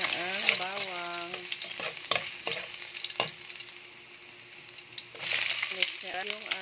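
Chopped garlic hits hot cooking oil in a pan for pork batchoy, giving a bright steady sizzle with stirring scrapes, while a voice talks briefly over the frying at the start and end.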